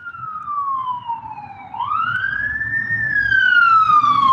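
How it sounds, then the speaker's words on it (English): A single wailing siren rises and falls in long, smooth sweeps over low background rumble, fairly close and growing louder. "The siren? Oh, that was a siren?"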